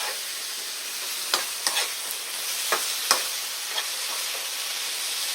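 Eggplant with sesame oil and soy sauce is stirred in a hot pan as a constant sizzle hisses, broken by several sharp scrapes and clinks of the utensil at irregular intervals.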